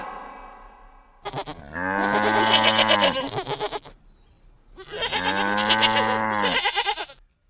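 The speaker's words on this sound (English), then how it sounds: "G for goat." Two long, loud goat bleats, each a wavering nasal cry lasting about two seconds, separated by a short pause, with no other sounds.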